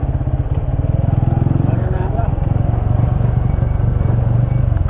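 A 10-year-old motorcycle rides onto the Yamuna Expressway, its engine giving a steady, close, throbbing drone with rushing wind noise throughout.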